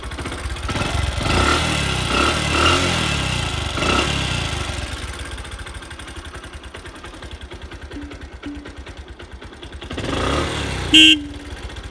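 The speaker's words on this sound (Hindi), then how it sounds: "ऐसे कुछ इसके हॉर्न की साउंड है।" A Bajaj Platina motorcycle sits with its engine running nearby, then near the end gives one short, loud, sharp toot of its horn over the steady engine hum.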